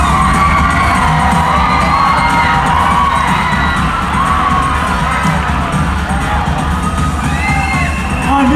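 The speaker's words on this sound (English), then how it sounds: "You need to cheer on for our new queen, ladies and gentlemen." Crowd at the Miss Baguio 2023 pageant cheering for the newly crowned queen: loud, continuous roar of shouts, screams and whoops from a large audience, with bangs and clatter mixed in and no clear talk.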